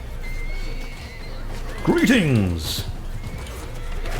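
Horse in the video game Mount & Blade 2 Bannerlord letting out one loud, clear whinny midway, against steady battle ambience, with a brief spoken greeting in the clip.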